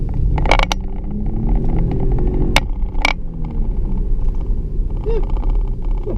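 A Jaguar XF S with a supercharged V6 drives along with a steady low engine rumble and road noise from inside the cabin, and a few brief clicks and faint sounds over the top.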